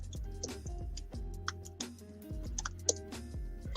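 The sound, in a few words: typing on a keyboard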